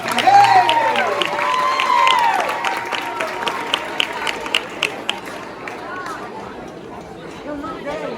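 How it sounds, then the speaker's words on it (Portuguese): Audience applause at an Indigenous exhibition held at a school in Araripe, Ceará, rising under a speaker's voice and chatter, then thinning into scattered claps that fade toward the end. "Uma salva de palmas para todos!"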